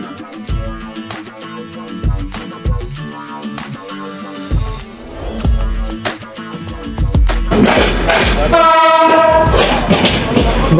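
Passenger train on the Dhaka to Jessore route, rolling with clattering wheels and carriage rumble, then a long loud horn blast that rises near the end over the running noise.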